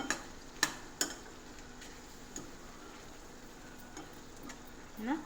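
Rajma curry finished with butter being stirred in a pot, faint soft scrapes and a few sharp spoon taps against the rim, quiet and sparse with a low simmer underneath.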